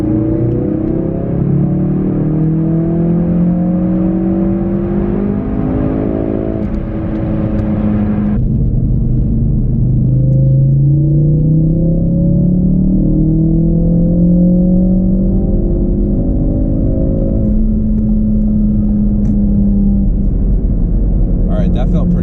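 A stock Ford Focus RS accelerating hard through the gears, its engine note rising in repeated sweeps with shifts between them, loud and close from inside the car, with a voice talking over the engine.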